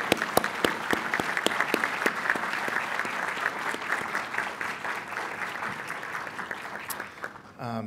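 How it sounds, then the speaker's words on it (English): At a faculty senate meeting, a roomful of colleagues applauds a retiring staff member, with crisp individual claps at the start building into steady moderate clapping that fades out near the end. "Why don't we give her a round of applause?"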